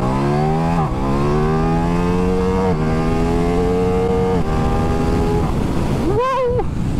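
A Ducati Diavel V4 motorcycle accelerating hard in first and second gear for a wheelie, its engine loud and close, the note climbing, dipping at gear changes and climbing again amid strong wind rush.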